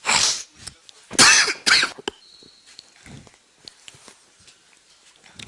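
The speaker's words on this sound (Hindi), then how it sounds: "खांसी आ रही है तो फेफड़ों में दर्द हो रहा है भाई," Several harsh, loud coughs in quick bursts from a man with painful lungs, followed by quieter breathing and small rustles.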